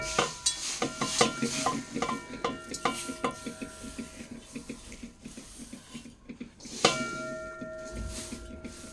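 A spoon stirs poha (flattened rice) mixture in a pan, making a steady run of quick scraping, clinking strokes up close, with a louder clatter near the end and no talk over it.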